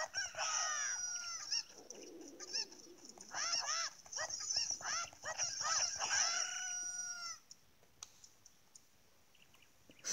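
Zelda game chickens (Cuccos) clucking and crowing in a busy, overlapping chorus as they attack, loud and close, then dropping off abruptly near the end.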